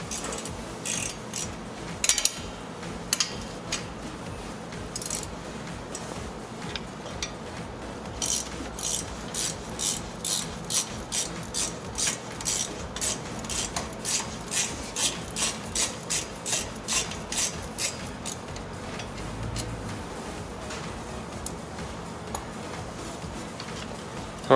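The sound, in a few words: ratchet wrench removing 13mm brake caliper bolt on Dodge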